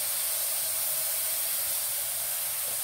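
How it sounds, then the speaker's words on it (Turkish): Tomato slices fry in a hot pan, giving a dense, even sizzling hiss. It runs loud and unbroken the whole time, close by and with no voices. "Şimdi de dilim domateslerimi tavada pişirmek üzere"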